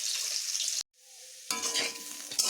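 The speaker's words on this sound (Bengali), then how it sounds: "আমার এই কচুগুলো মশলাগুলো দিয়ে আমি কিন্তু বেশ অনেকক্ষণ ধরেই এটিকে কষালাম" Taro pieces stir-fried with spices in a pan give a close, hissing sizzle, cut off by a brief silence and then resuming with stirring scrapes and sputtering, with no talk.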